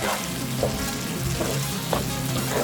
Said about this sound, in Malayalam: ലിവർ ഇട്ട് ഇതുമായിട്ട് നന്നായിട്ട് മിക്സ് ചെയ്യുക.